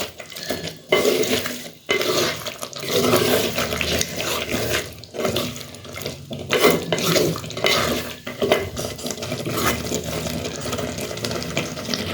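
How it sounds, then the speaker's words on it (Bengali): Water pours and splashes into a clay pot of country chicken curry, with clinks of cookware and stirring, close and steady, no talking. "দিয়ে দিচ্ছি জল।"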